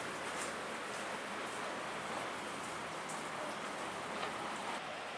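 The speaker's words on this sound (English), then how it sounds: "Listen to the waves" Ocean waves surge and wash into a small alcove below a cliffside trail near Chapel Rock, a steady broadband roar with no clear breaks, moderately loud and continuous throughout with no talking.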